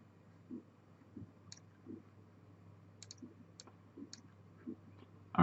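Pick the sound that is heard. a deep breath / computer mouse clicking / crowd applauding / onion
computer mouse clicking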